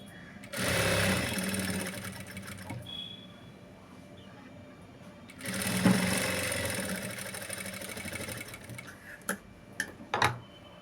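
A sewing machine stitches a blouse in two sustained runs of rapid, ticking stitches separated by a quiet pause, close by, followed by a few sharp clicks of handling.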